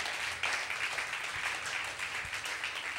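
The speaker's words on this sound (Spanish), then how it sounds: "Un fuerte aplauso." A church congregation clapping to welcome newcomers at a worship meeting, a steady, fairly faint wash of applause lasting a few seconds, heard from a distance.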